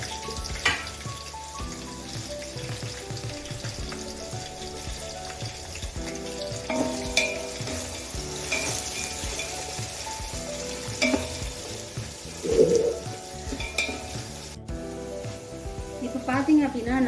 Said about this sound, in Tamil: வெங்காயத்தை நல்லா பொறிச்சு பொன்னிறமாக எடுத்துக்கணும்